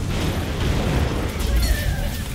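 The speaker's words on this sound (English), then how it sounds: "Keep bombing on the portal." Dense, continuous rumbling explosions and bursts from bombing a portal in a Guild Wars 2 battle in Maguuma, loud and sustained with layered effects.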